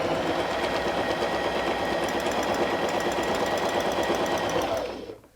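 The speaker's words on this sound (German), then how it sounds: "wir nähen zurück" A domestic sewing machine runs steadily, stitching in reverse while quilting with a ruler, its fast mechanical whir continuous and close for about five seconds before stopping abruptly at the end.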